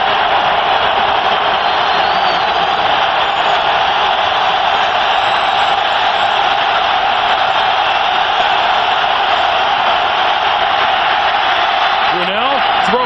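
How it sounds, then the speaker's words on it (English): A Denver Broncos home crowd roars at Mile High stadium during a 1998 NFL game against the Jacksonville Jaguars, a loud, dense, sustained wall of noise under a broadcast commentator's voice. "Listen to the Denver crowd."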